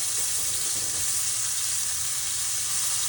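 Small pieces of beef searing in a hot pan give off a steady, close sizzle that holds even and continuous with no voices.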